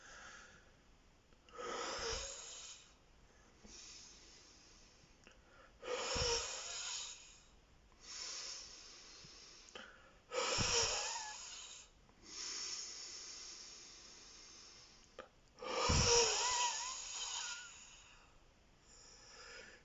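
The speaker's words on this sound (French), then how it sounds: "Donc j'inspire un petit peu." Breathing exercise to clear the nose and bronchi: slow, deep inhalations and exhalations come close to the microphone as about five airy, hissing breaths spaced a few seconds apart, with no talking.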